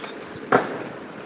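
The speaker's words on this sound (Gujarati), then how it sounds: "ફટાકડા ફૂટી રહ્યા છે" A single sharp firecracker bang cracks out once amid quiet outdoor ambience.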